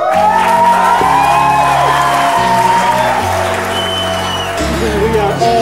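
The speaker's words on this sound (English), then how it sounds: "I want to hear a big round of applause for our bride and groom" Wedding guests applaud and cheer for the newly married bride and groom at a reception, with loud clapping and whoops over a pounding entrance song.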